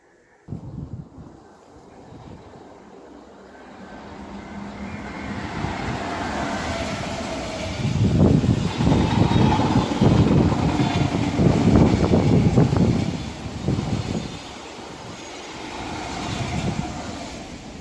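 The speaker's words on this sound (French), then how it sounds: "moi j'attends un train sans arrêt qui passe sur cette voie-là, juste devant" A non-stopping train rushes through a station at Arnouville-lès-Gonesse, building from a distant rumble to a loud, close roar with rattling wheels over several seconds, then easing off, with no talking.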